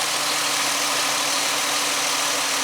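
The engine of a 2005 Ford Mustang with a misfire idles close up, a steady hiss-laden drone carrying a faint uneven low pulsing, with no one speaking.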